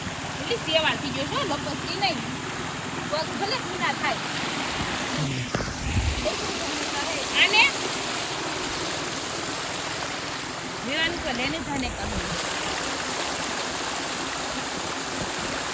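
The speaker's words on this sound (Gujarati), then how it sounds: "આને અમારે દેશી ભાષામાં ઝરણું કહેવાય" A stream flows steadily near a pond on a village farm, giving a continuous close rushing and trickling wash with a few brief splashes.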